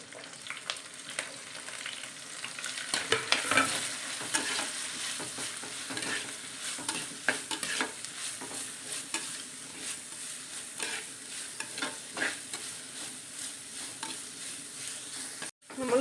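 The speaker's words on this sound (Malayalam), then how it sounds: "ഇവിടെ തേങ്ങ ഒക്കെ ഒന്ന് ഇതുപോലെ മൂത്താൽ മതി കേട്ടോ" Grated coconut frying in a pan for a clam fry, with steady sizzling and repeated scraping stir strokes, close and moderately loud, no voices.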